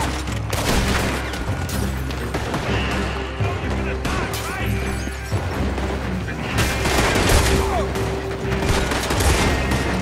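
Gunfire rattles through a shootout in the video game Red Dead Redemption 2, rapid shots and booms layered with shouting voices, loud and chaotic over a steady rumble.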